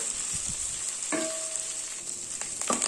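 Drumstick leaves sauté in ghee in a pan for a Muringayila rice dish, with a steady soft sizzle and a few scrapes and clinks of a spoon stirring, close and quiet.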